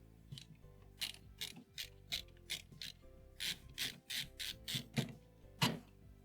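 Tight, long back screws are being removed from an N64 console, heard as close, quiet bursts of ratcheting, clicking mechanical turns repeated in an uneven rhythm with short pauses.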